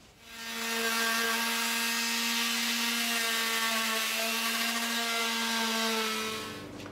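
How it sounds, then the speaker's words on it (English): A power sander whirs steadily on a wooden demilune table top for several seconds, a continuous buzzing drone with no talking. "I'm going to sand that off."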